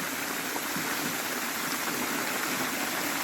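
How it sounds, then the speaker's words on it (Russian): The Big Baryalsky waterfall rushing in a steady, dense roar of falling water, broad and continuous with no pauses, fairly loud and close, with no voices. "Это Большой Барьяльский водопад."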